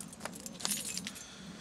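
Work keys on a lanyard jangle near at hand in the woods: a bright, steady metallic jingle with a low background rumble.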